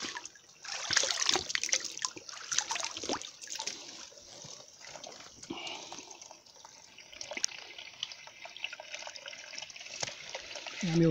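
Cold tap water runs and splashes while someone washes their eyes, an irregular trickling and spattering close by with brief louder splashes and occasional talk.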